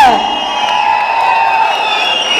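A large crowd at an outdoor birthday celebration for actor Dhruva Sarja in Davanagere cheers and whoops in a continuous loud roar, with shrill whistles or calls above it.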